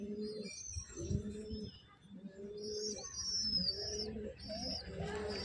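Domestic pigeons coo in repeated low, throaty phrases, close and fairly quiet, with a few higher chirps from other birds mixed in.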